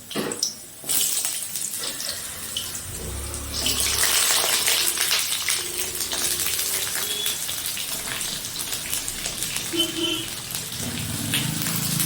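Potatoes are tipped into hot oil flavoured with five-spice seeds for aloo chochhori, setting off a loud, steady hiss and crackle of frying after a brief quiet start, close up with no talking.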